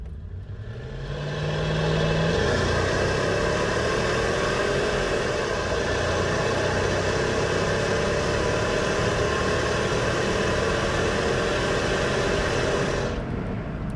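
A supercharged 6.0-liter engine in a 2003 Hummer H2 with 67,000 miles drones steadily while driving, a sustained low rumble with broadband road and cabin noise that holds constant for the length of the run after a brief quieter start.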